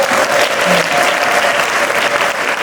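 A church congregation claps for God in loud, sustained applause, dense and even throughout, with a faint voice or tone held briefly beneath it.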